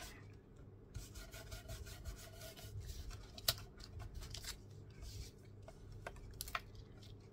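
Paint being rubbed off a junk journal page by hand: a quiet, continuous scratchy friction with soft rasping strokes and a few small taps, close and faint, with no talking.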